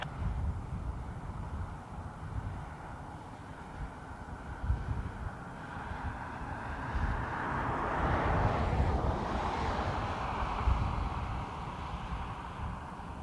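A jet airliner takes off from runway 28 right at Dublin Airport, its engine roar rising to a broad, distant swell that builds and then fades slowly, with wind buffeting the microphone.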